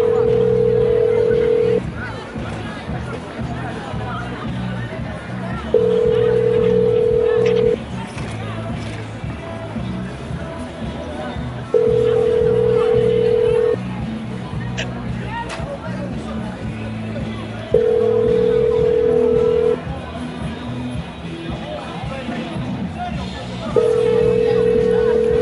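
Repeating telephone hold tone on a call to the 02 police line, a steady beep sounding about every six seconds over background street noise and crowd babble.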